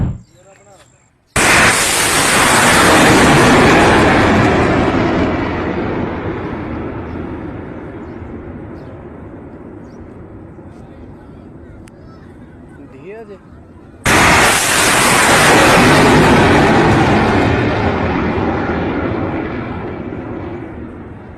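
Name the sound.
missiles launched from among crowd, explosions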